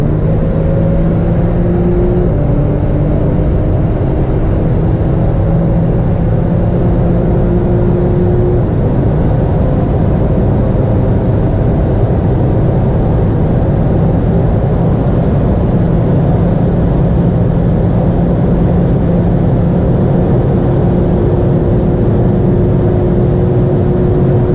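A Porsche 991.2 Turbo S tuned to Stage 3, driving fast with a loud, steady engine drone and strong road and wind rush, recorded close and continuously with no voices.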